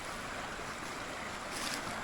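A small waterfall on a creek in wooded shale and limestone country gives off a steady broadband rush of falling and flowing water, continuous and fairly loud, with some wind buffeting the microphone.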